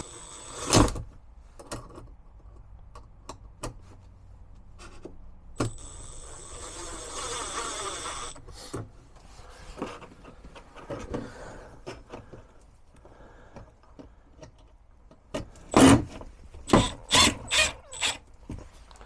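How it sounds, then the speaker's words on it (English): A screw driven into a bracket for an RV toilet paper holder with plywood backing gives a steady buzzing drive in the middle, with sharp clicks and knocks near the end and no talking. "now I can go ahead and put that screw in my bracket."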